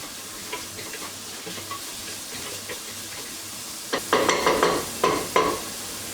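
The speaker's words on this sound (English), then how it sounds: "I'm going to put it on full heat so that we're going to add our tomatoes just now" Tomatoes go into a hot pan on full heat for a spicy Napoletana sauce, giving a soft steady sizzle, then a burst of loud close stirring and scraping near the end.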